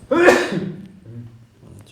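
A single sharp sneeze bursts out up close during chess commentary, followed by a short spoken word.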